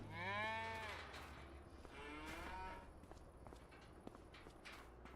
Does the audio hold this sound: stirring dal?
no